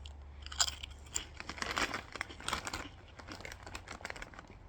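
Tangy Pickle Doritos chips are chewed close to the mic, with loud, irregular crunches and crackles that fade into softer chewing.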